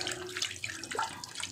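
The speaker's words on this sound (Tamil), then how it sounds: "கை கழுவிக்கலாம்." Hands being washed under a running kitchen tap while cooking country chicken curry, a steady close splash of water hitting hands and a sink, with no talk.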